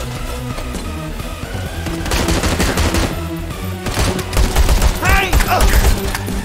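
Rapid bursts of gunfire from the VR shooter Hard Bullet crack out loud and close, clustered in volleys over game music, with a brief shout heard among the shots.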